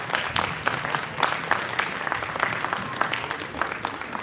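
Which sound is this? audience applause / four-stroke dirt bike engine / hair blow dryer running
audience applause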